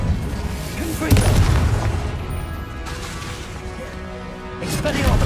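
A Confringo blasting spell explodes in the Hogwarts Legacy game with a loud boom and crash near the start, followed by rumbling debris and a second burst near the end, mixed with spell-casting voices.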